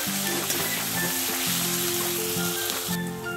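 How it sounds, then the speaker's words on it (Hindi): Garlic-ginger paste and masala fry for chicken bhuna, making a steady close sizzle with soft stirring scrapes throughout and a low hum beneath. "ये सारे चीज हम अच्छी तरह भून देते हैं मसाला को खुशबू आने तक भूनना है"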